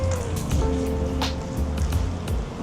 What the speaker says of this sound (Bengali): কিন্তু এখন বৃষ্টি মোটামুটি কমে গেছে